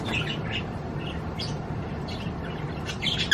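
Rescue budgies give scattered, soft chirps and tweets over a steady low background hum indoors, with a slightly sharper call right at the end.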